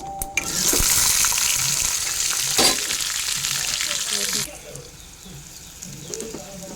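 Eggplant pieces tip into hot oil and set off a loud burst of sizzling that holds for several seconds, then settles to a quieter fry with faint spoon scrapes.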